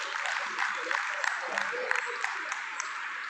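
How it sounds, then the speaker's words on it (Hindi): An audience at an International Nurses Day event in Bikaner claps to welcome a cabinet minister to the stage, a steady wash of applause throughout with a voice over a loudspeaker. "जोरदार ताली से स्वागत और अभिनंदन करें।"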